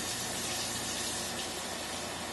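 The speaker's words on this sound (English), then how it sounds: "I'm just going to fill up my measuring cup again" Cold water runs from a kitchen tap into a measuring cup for lavender lemonade, a steady hissing gush that stays constant and close throughout with no talk.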